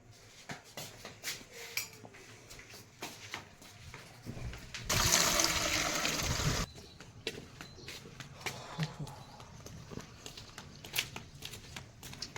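Water pours onto plants in a loud, steady gush lasting about two seconds midway, with scattered clatter and shuffling noises around it.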